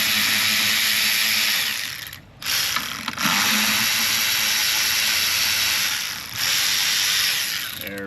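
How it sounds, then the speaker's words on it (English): A hand ratchet works bolts loose from the airbox baffle noise damper of a car. It gives repeated close clicking runs, with brief pauses where the tool is reset. "unbolt bolts from airbox baffle noise damper thing"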